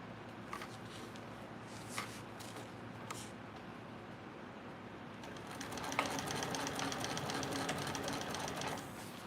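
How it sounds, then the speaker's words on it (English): A TrailBlazer sewing machine stitches a fabric panel at a 3/8 inch seam, its motor whirring steadily at close range, getting busier and louder in the second half with a few small clicks earlier on. "We're sewing this at 3/8 of an inch seam allowance."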